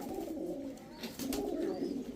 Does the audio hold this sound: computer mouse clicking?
no